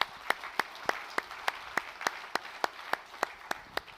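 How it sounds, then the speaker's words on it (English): Applause for six finalists at a live beer-industry event, heard as a single nearby pair of hands clapping at a steady, even rhythm, about three claps per second, fairly quiet against a soft room background. "Once again, round of applause for all of them."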